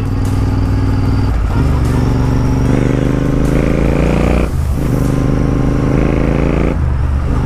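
Motorcycle engines, a Royal Enfield Continental GT 650 and a Yamaha R15 M, revving loud and close in a continuous throaty roar with repeated rises in pitch as the throttle is blipped.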